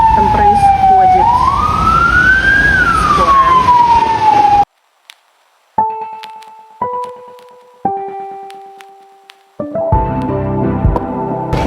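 An ambulance siren in Uruguay wails loudly and close at hand, its pitch sweeping up and down, then cuts off and gives way to music.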